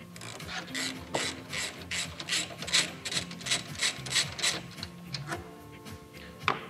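A ratchet turns a 10 mm socket to back out an airbox screw on an Infiniti Q50/Q70. It makes quiet, close, rapid clicking in steady strokes with faint rubbing between them.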